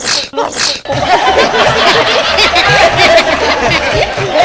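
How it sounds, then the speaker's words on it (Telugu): A single loud, abrupt sneeze bursts out at the start, followed by close, excited voices and snickering in a comedy scene. "నువ్వు ఇంకొంచెం గట్టిగా తుమ్మితే ఎగిరెళ్ళేవాడిని."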